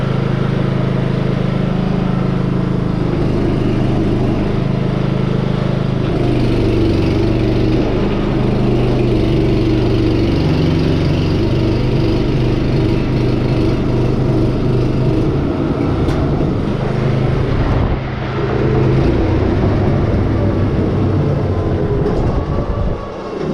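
An engine at an oilfield starts up and settles into a loud, steady running drone with a low throbbing hum and some mechanical rattle, holding on for the whole stretch without speech.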